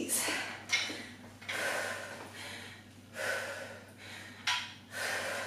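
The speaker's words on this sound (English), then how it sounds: "Nice deep breaths here." Deep, heavy breaths during a fast-paced shred workout, alternating loud drawn-in and pushed-out breaths in a steady rhythm close to the mic over a low background hum.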